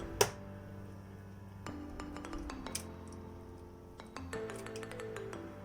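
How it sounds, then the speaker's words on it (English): An egg cracked against a bowl gives one sharp, close clink right at the start, followed by faint handling clicks and light taps over a quiet low hum, with no talking. "All you have to do is first crack your egg"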